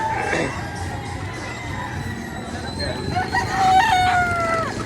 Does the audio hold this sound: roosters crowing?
yes